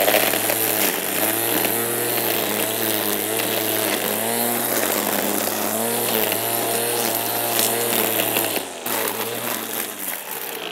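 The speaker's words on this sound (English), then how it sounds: "it's got a nylon cord there that whizzes around very quick and cuts everything" A cordless grass trimmer set to turbo, its nylon cord whirring at high speed, cuts through thick garden grass with a loud, steady buzz that wavers slightly as it bites and ends with a brief drop.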